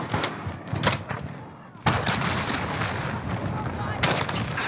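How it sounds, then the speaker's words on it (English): Cruise missile strike in a Modern Warfare match, with a sudden loud blast and sustained rumbling roar of explosions, followed by another sharp impact near the end. "Allied cruise missile on the way."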